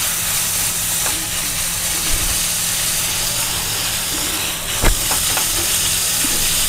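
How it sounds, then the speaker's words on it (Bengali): Finely chopped chicken fries in a pan with a loud, continuous hissing sizzle close by, broken by a couple of brief utensil knocks. "এবার এই চিকেনটাকে খুব ভালো করে ভেজে নিতে হবে।"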